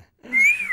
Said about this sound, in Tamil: இப்ப நீங்க எதுக்கு விசில் அடிக்கிறீங்க?